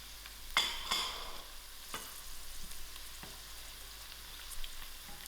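Green chilies and popped mustard seeds fry in a pan for pumpkin herbs with dried shrimp, a quiet sizzle punctuated by a few sharp spatters and stirring clicks, close but faint, no voices.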